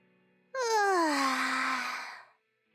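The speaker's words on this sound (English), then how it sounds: "Wait, you yawn at work too" A Zenless Zone Zero character lets out a long, drawn-out yawn that starts abruptly, falls steadily in pitch, and fades after nearly two seconds, heard clearly and alone.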